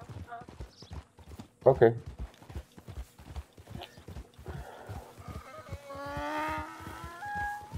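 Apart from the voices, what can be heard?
donkey hooves trotting in Red Dead Online video game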